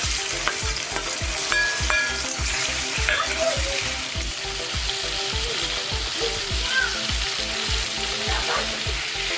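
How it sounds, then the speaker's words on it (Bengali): Prawns fry in hot oil in a home kitchen, giving a continuous sizzle with regular rhythmic stirring and scraping strokes throughout. "এবার আমি চিংড়ি মাছগুলি ভেজে নেবো।"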